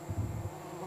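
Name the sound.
swarm of yellow bees buzzing on river sandbank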